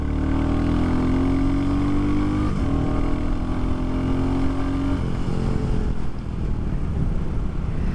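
A Royal Enfield Classic 350 single-cylinder motorcycle revs up through two rising pulls separated by a gear change, its throaty engine note close and loud before settling into a lower, rougher drone.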